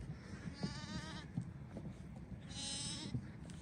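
Sheep bleat near a tent camp at sunset, drawn-out wavering calls rising twice over a low rumble of animal movement and soft thuds nearby.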